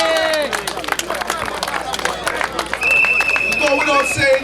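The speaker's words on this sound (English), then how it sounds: "A round of applause for Queens United" A crowd applauds Queens United at a Metropolitan Cricket League finals presentation ceremony, with dense steady clapping mixed with cheering voices and whistle-like calls that swell louder in the second half.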